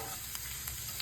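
Papad frying in hot oil for Rath Yatra, giving a soft, steady sizzle with a few faint crackles over one brief second.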